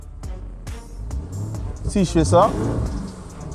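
A Lamborghini Urus in Strada mode revs repeatedly, with short engine blips and then a rising, sweeping rev near the end, heard close under a man's brief speech.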